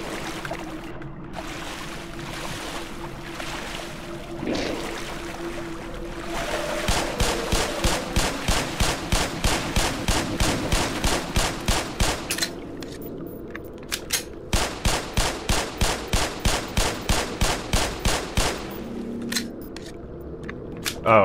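Rapid automatic gunfire in Black Mesa: Xen, two long bursts of evenly spaced loud shots that repeat in a steady rhythm over a background drone, with a short gap between the bursts.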